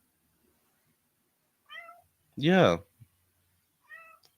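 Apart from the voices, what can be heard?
pet cat meowing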